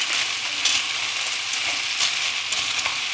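Frozen pasta sautéing in a pan with browned tomato paste, a steady close sizzle with scattered sharp crackles and stirring scrapes.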